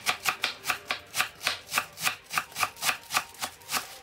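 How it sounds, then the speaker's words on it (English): Knife chopping cabbage, tomatoes and onion on a cutting board, a quick regular series of about fifteen crisp cuts at close range, with no talk. "So we're gonna go ahead and wash and chop."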